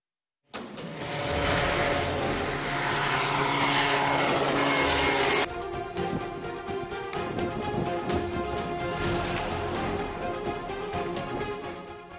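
DRDO's Tapas unmanned drone in flight gives a loud, steady engine and propeller drone that starts abruptly and holds for several seconds, with a shift in tone partway through and no voices.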